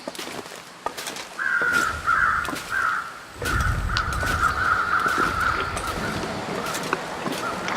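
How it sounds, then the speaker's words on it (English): Crows caw repeatedly in The Long Dark video game on Timberwolf Mountain, a run of harsh calls at mid distance over wind and other ambient game sounds, with no talking. "Let's go check out those other birds."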